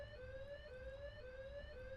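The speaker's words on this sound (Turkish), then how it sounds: "Ben alarmı çalıştırdım çıkıyorum oyun bitmiyor." Video game alarm siren wailing steadily, its rising and falling electronic tone repeating about every half second over a constant low background hum, with no voices.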